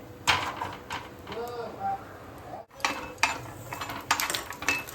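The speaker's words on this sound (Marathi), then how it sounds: "मस्त असं चांगला लाल कलर होईपर्यंत भाजून घेऊया." Tomato, coriander seeds, garlic and green chilies roasting in a pan, with soft scraping and clattering of a utensil stirring, close and moderate, while someone talks.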